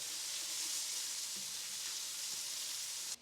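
Onion sweating in oil in a pan for a stuffed zucchini filling gives a steady, close, even sizzle that holds without a break for a few seconds, then cuts off abruptly at the end. No one speaks.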